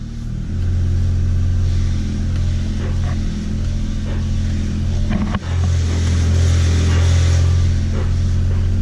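A Ford Mustang engine runs with a deep, steady rumble close by, briefly dipping before catching again and settling into a stronger, even idle.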